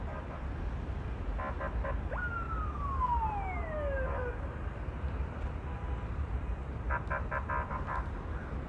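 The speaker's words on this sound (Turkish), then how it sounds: "Polis sesi geliyor." A police siren wails in the distance over steady low traffic rumble at a car fire scene, one long descending sweep with faint pulsing toots before and after.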